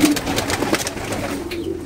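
French meat pigeons coo softly and repeatedly, their low, throaty calls overlapping amid light rustling nearby.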